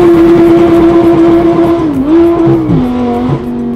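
Loud, close engine note from a Super Trofeo Stradale sports car in Dubai, a steady high drone that dips and shifts pitch near the end as revs change, with no talk over it.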